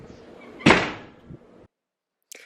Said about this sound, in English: that's why that door just slammed